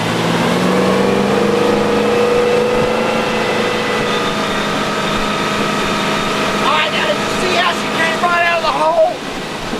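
A 2005 Sea Ray 220 Sundeck motorboat with duo props runs at an easy cruise, its engine drone holding steady and loud, then building toward about 3,000 RPM with rushing water near the end.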